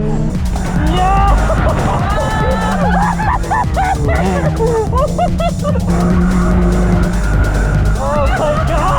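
A Honda Fit drifts with its front tires worn down, its tires screeching and squealing over engine noise while a dog barks and excited voices shout close by.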